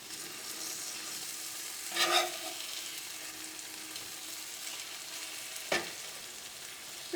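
Tandoori chicken grilling in a pan on a gas stove, a quiet steady sizzle broken by a brief louder burst around the flip and a sharp clink later.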